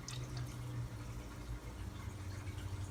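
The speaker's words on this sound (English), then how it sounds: "we're going to swish it around again to rinse off those seeds just a little bit more" Water sloshes and swishes around microgreen seeds in a bowl as they are rinsed, a close, continuous wet churning with small splashes, with no talk.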